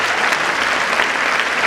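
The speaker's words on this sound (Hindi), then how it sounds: "Please put your hands together" Loud, dense applause from a school-function audience at Maharishi Vidya Mandir, a continuous wash of clapping filling the short stretch without voices.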